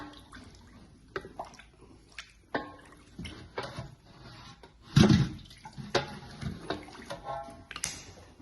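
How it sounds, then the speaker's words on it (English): Hot water pours and splashes into a container for making fresh mozzarella in short bursts, with a louder gush midway, trickling and dripping between pours. "I'm adding more hot water"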